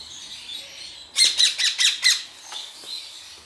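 Ring-necked parakeet chicks in a box lined with wood shavings give a quick run of five loud, harsh squawks close by, followed by softer chirps against a quiet background.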